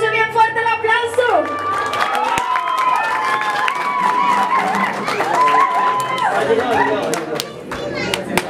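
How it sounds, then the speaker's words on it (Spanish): Audience at a birthday mariachi performance applauds and cheers loudly, mixed with lively chatter and shouts, while a mariachi voice and musical tones carry over the crowd noise for several seconds. "Y que se escuche bien fuerte el aplauso"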